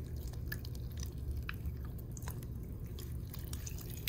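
Watery slime is squished and stretched close up, giving soft wet squelches and crackly clicks that repeat irregularly over a quiet background.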